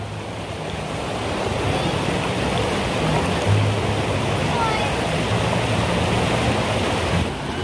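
Tat Ton waterfall in Chaiyaphum, Thailand, a freshwater falls pouring with a steady, dense roar of rushing water that stays loud and even throughout, with no voices over it.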